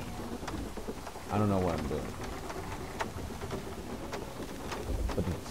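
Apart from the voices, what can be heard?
rain and thunder in the video game God of War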